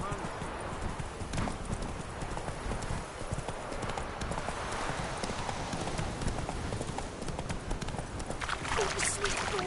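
Hooves of a galloping horse in the video game The Witcher 3 on PS4 make a rapid, continuous clip-clop throughout, with a voice speaking over the hoofbeats.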